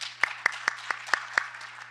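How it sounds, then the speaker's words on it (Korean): Small audience at an international patent court conference gives a brief, sparse round of applause, about six or seven distinct claps in a steady rhythm, fading out, over a low electrical hum. "박수 부탁드립니다."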